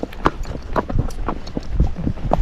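Hooves of a Missouri Fox Trotter horse clip-clop in a steady, fairly close rhythm of soft, distinct strikes, with no talking.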